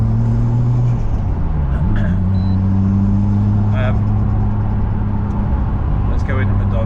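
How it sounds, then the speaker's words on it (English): A Toyota JZX100 drifting sideways, its engine droning steadily at high revs with pitch shifts as it slides, close and loud throughout, with a few faint squeaks over the continuous rumble. "This car does love going sideways for no reason."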